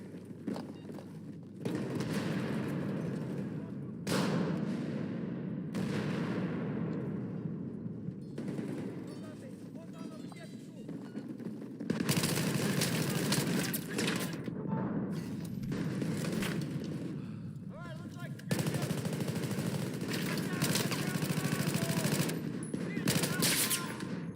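Battlefield 6 combat with a grenade blast and rapid bursts of gunfire, loud dense clusters of shots and booms in repeated waves with short lulls, a voice shouting briefly over the action.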